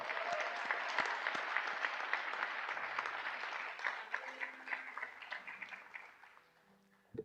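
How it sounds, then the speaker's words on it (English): Audience at a high school graduation and award ceremony applauding a student named Kayla, a sustained round of clapping from many hands that fades toward the close, with faint voices underneath. "Again, another round of applause for Kayla"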